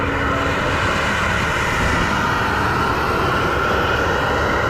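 Steady, loud aircraft engine roar at an airport in Santiago, Chile, a continuous broad rushing drone with a faint high whine that holds unchanged throughout, with no talk over it.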